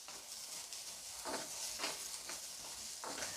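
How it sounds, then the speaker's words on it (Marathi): Chopped onion frying in oil in a pan, a steady dense sizzle with soft periodic stirring swells, close and continuous without speech. "प्रथम मी कांदा तेलामध्ये भाजून घेते"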